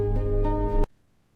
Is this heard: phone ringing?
yes